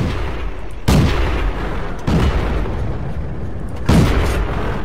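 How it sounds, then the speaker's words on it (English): Three heavy booming tank cannon shots from World of Tanks, spaced about a second or two apart, each a loud broadband blast over a constant rumbling engine and battle background, with no talking. "I heard his gun!"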